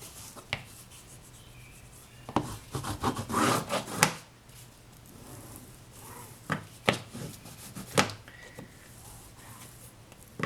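A piece of a portfolio spine is rubbed down at the joint by hand, making soft, close scuffing strokes broken by a few sharper taps, quiet throughout.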